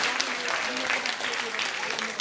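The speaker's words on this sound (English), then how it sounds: "Give him a warm round of applause, please." A crowd at a community scholarship brunch claps in a dense, steady round of applause that holds evenly for a couple of seconds, with a voice faintly present underneath.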